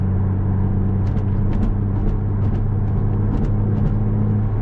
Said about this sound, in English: that's me going over the indicators on the highway lanes